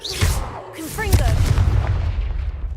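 A Confringo blasting spell goes off in Hogwarts Legacy, giving loud booming bursts with bright, swirling magical whooshes that trail into a sustained rumbling roar.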